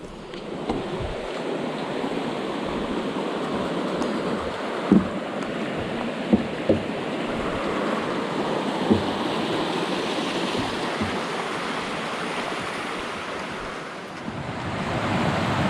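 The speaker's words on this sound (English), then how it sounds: "Yet another beautiful waterfall." A steady, continuous roar of rushing, falling water from a waterfall on the Appalachian Trail, thick and unbroken throughout, with a few faint knocks and no voices.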